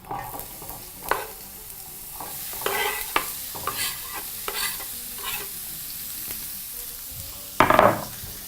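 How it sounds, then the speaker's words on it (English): White onions frying in a pan while being stirred, with a soft steady sizzle under repeated scraping strokes and a louder clatter near the end. "we're going to start off very simply by adding our onions to the pan"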